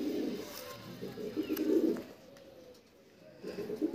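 A young pigeon coos softly in a loft, making low, rolling calls in short bursts with a pause between them, fairly close but quiet.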